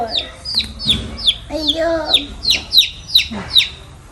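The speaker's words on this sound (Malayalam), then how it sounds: "നന്ദു ഹാപ്പി കോഴിക്കുട്ടീനെ കൊണ്ട് വന്നിട്ട് നന്ദുവിന് കയ്യിൽ വെച്ചു" A small chick held in someone's hand peeps repeatedly in quick, high chirps, about a dozen evenly spaced calls close to the ear, with a short lower murmur partway through.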